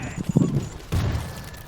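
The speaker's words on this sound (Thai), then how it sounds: "เฮ้ยระเบิด" Explosion in the zombie shooter World War Z, a sudden heavy boom followed by a rumbling tail, with gunfire-like bursts just before it and a voice talking over the game audio.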